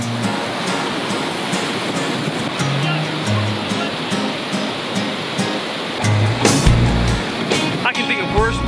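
Ocean surf washing in at the Venice Breakwater beach, a loud continuous roar of breaking waves with rushing water close by, steady throughout with a slightly heavier surge near the end.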